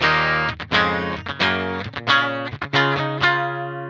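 A Fender Player Series Telecaster played with the drive pedal switched off, a series of picked chords and notes ringing with a fairly clean tone, close and alone.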